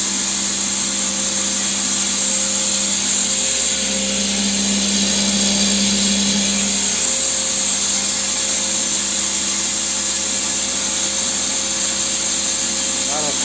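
A DKU grain crusher mill on its first start runs with a loud, steady motor whine and hum throughout, close by, with a slight shift in pitch partway through and speech faintly under it.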